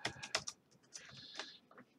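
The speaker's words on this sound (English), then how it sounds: "I'm still typing over here" Typing on a computer keyboard while coding an HTML canvas text area in JavaScript: a quick close burst of crisp key clicks, then a few sparser taps, with no talking.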